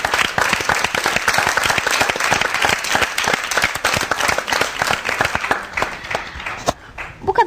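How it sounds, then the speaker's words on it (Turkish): A studio audience claps loudly and steadily for several seconds. The dense applause thins and stops near the end. "bir kez daha selamlarımızı ve alkışlarımızı gönderelim mi kendisine?"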